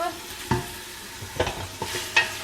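Meat browns in a pressure cooker for Moroccan couscous, a soft continuous sizzle broken by several scraping stirs with a utensil against the pot, close and moderately loud.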